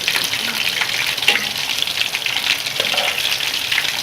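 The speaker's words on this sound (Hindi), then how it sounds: "अब हम इसको इस साइड से भी अच्छी तरह से फ्राई करेंगे ताकि ये गोल्डन ब्राउन हो जाए" Masala-coated fish pieces frying in hot oil in a pan, turned to brown on the second side; a steady, dense sizzle with crackling runs close and loud throughout, with no talking.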